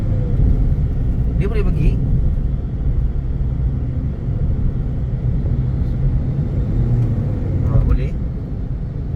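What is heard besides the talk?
Proton Saga MC3 car accelerating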